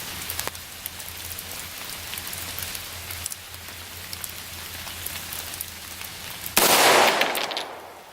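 A 9mm pistol fires handloaded ammunition outdoors: a single loud, sharp report with a decaying tail near the end, after a stretch of steady crackling, rain-like background patter.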